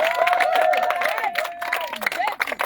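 A church crowd at a revival mission in Korhogo acclaims Jesus, with a burst of mixed cheering, shouts and scattered clapping that swells and dips, voices loud and overlapping.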